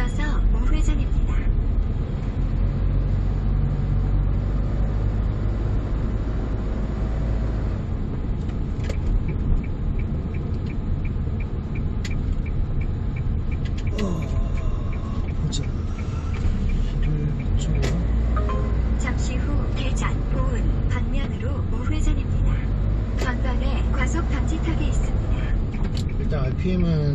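A Hyundai Porter 2 truck climbing an uphill road, with a low, steady engine rumble heard from the cab throughout and someone talking over it.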